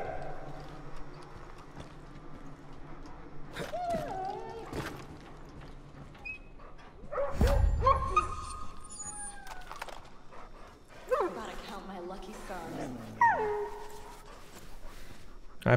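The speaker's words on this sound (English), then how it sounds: "I pet the scared dog." A dog in the video game Far Cry New Dawn whimpers and yips in several high, wavering cries, mixed with footsteps and game ambience at moderate loudness.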